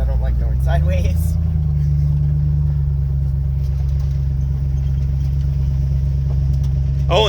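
A 1977 Chevy K5 Blazer driving in front-wheel drive on a bumpy route on a fall day, its engine holding a steady low rumble throughout, with people talking over it inside the cab.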